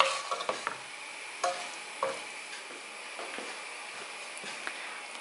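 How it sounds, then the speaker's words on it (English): Washed rice stirred with salt in a pot while cooking Pakistani mattar pilau, rice with peas: a steady sizzling hiss with scattered scraping clicks and spoon knocks, loudest in the opening seconds. "Mix that together, and I'm just going to add my washed rice now."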